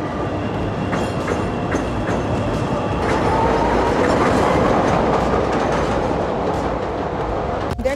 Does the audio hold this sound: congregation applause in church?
no